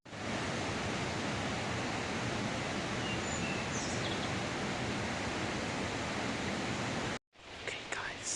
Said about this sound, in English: I'm near the first waterfall